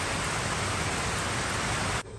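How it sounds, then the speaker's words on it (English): Heavy evening rain at a boat yard, a steady dense hiss of drops drumming continuously at close range, then cutting off abruptly near the end. "we've had some pretty heavy rain this evening"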